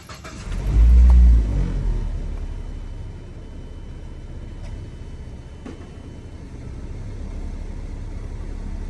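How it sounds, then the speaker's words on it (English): A Mazda 3 engine cranks and catches with a loud surge at startup, then settles into a steady, close idle that hums on to the end. "start the car."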